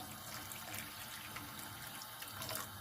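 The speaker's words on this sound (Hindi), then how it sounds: "और साथ ही हम पानी ऐड करेंगे" Water pours from a tap in a faint, steady hiss and splash as it is added to a pan on the stove for a plum chutney, continuous with no voices over it.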